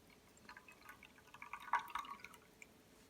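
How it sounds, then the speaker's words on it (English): The last drops of sencha green tea drip from a teapot into a cup, a few faint, quiet trickles and taps against a low hiss with no talk. "Let's go ahead and pour this out."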